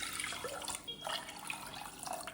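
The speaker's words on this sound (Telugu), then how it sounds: "ఈ కప్పు బియ్యంకి 2 కప్పులు వాటర్ వేసుకుంటాం." Water pours steadily into a cooking pot of rice for a Telugu raw-mango pulihora, a close splashing, gurgling rush that runs continuously for a couple of seconds without speech.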